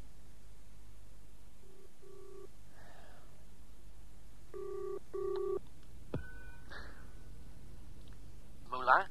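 Telephone effects for a BBC radio drama: a handset dials a run of beeping tones in short bursts, then a ring tone sounds once, with faint breathing and handling noises in between.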